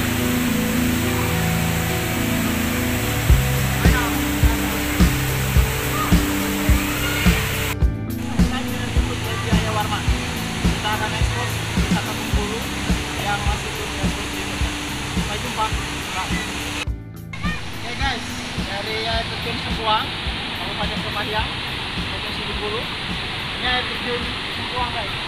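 Steady broadband rush of the Sengkuang waterfall in Kepahiang, Bengkulu, a continuous roar filling the scene, with two brief dropouts and repeated low thumps; voices are faintly present underneath.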